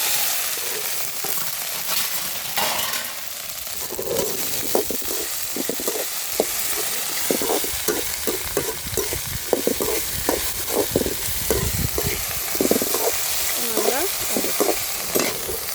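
Sliced okra stir-fried in a hot pan with fennel seeds and curry leaves for vendakkai poriyal, a loud dense sizzle with rapid, repeated spatula scrapes and stirring knocks throughout, without talking.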